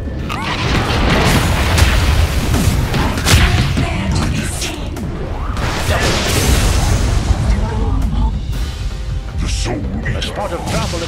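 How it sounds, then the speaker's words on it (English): Dota 2 battle with a tower falling, continuous booming crashes and crumbling rumble alongside rapid ability and attack effects, loud and dense throughout, with an announcer voice speaking over the action. "Your middle tower has fallen."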